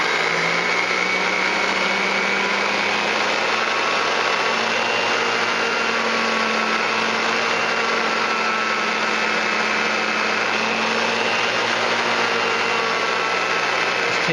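A sanding block presses against an 1889 Morgan silver dollar coin ring spinning on a motor, giving a loud, continuous whirring hum with a steady rough sanding hiss throughout.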